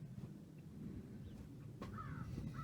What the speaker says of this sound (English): you can tell it's spring, the crows are back